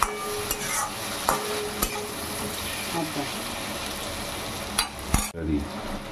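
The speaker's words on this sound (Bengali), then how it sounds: "এবার এই মশলা দিয়ে ভালো করে ওপর নিচ নেড়ে চেড়ে আর ওটাকে ভালো করে কষিয়ে নেব।" Chana masala spices fry in a pan under a constant close sizzle, stirred with a few sharp utensil knocks and scrapes against the metal, and no voices are heard.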